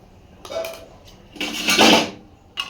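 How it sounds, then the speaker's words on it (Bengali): A spoon scrapes and clanks against a cooking pot of Bengali dal, with a few separate bursts of stirring and a final short knock at the end. "সুন্দর করে নেড়ে নিলাম"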